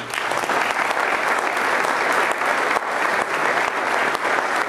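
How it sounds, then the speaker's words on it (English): An audience at a retirement celebration applauds steadily, a dense, loud wash of clapping that holds at an even level throughout with no talk over it. "I think she deserves another round of applause."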